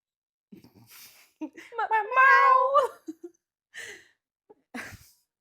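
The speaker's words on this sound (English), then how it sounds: "That's such a desperate meow." A drawn-out, pleading meow from a nearby cat, with short bits of a person talking before and after it.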